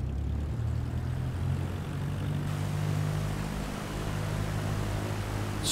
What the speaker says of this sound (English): let me taxi to the runway